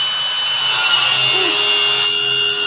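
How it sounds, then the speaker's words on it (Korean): Milwaukee angle grinder cutting through a pipe, a loud continuous high-pitched whine and grinding screech that holds steady for the whole stretch, close up, with no talk over it. "저희가 먼저 그라인더를 활용을 해서 파이프 커팅을 잠깐만 해볼게요"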